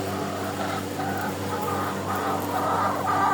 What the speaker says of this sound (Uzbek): Mana shu tovuqxonamiz.